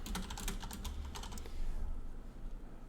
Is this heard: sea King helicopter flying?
no